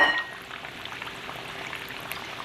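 Potato pieces for bhajia fry in hot oil with a steady, dense crackle and sizzle of fine bubbling pops, close and even throughout.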